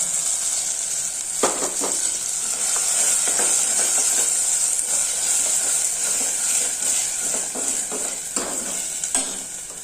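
Garlic, small onions and onions fry in a pan as ground tomato is added, giving a loud, steady sizzle and hiss with occasional spatula scrapes and clinks, close by throughout.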